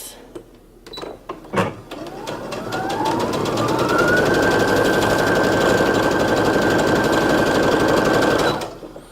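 A sewing machine stitches jacket fabric along a marked line, starting with a few short clicks and bursts before running loud and steady for several seconds, then stopping abruptly.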